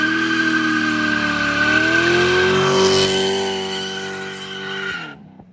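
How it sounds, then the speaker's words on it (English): A BMW car does a burnout, its engine revving hard with a sustained, rising tire squeal. The sound is loud and close before it cuts off abruptly near the end. "we're gonna get it driving and then do a big burnout"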